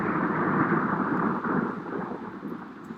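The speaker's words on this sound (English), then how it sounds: "The thunderstorm outside is brutal" A brutal thunderstorm rumbles outside as a dense, continuous roar of thunder and rain, loud and unbroken throughout, with no voices.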